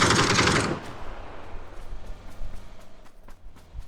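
Rapid automatic gunfire in the PUBG battle game, a loud dense burst at first, then scattered sharper shots and distant pops trailing off, with no talk.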